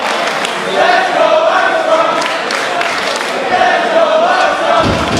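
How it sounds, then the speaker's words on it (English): A wrestling arena crowd roars and chants in sustained waves during a tag match, loud and close, with a commentator's voice running over it. "And the crowd firmly behind the Armstrongs here."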